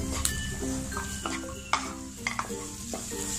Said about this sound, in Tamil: இந்த பட்டாணி வந்து கொஞ்சம் வேகிற அளவுக்கு நம்ம இதுல சிம்ல வச்சு வேக விடலாம்.